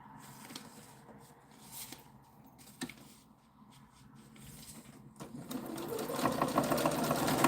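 A sewing machine stitches fabric at a short 1.6 stitch length, a faint, steady mechanical whir with small clicks that grows louder and busier toward the end.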